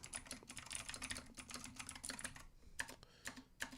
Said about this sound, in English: Y'all like my typing speed?